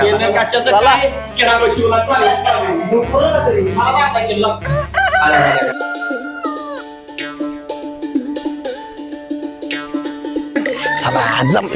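A rooster crows in a village setting, a drawn-out call rising out of the mix after several people talk loudly over one another, with the crow heard fairly close.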